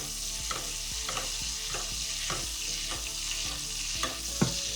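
Steak basting in butter and oil in a tilted pan gives a steady, close sizzle, broken by regular spoon scrapes and splashes about every half second, with no talking.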